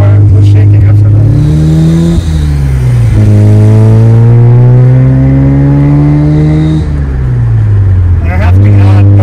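A modified Mazda FB RX7 drives loud and close, its engine revving up and easing off in long sweeps with a couple of sharp dips, the car shaking over bumps.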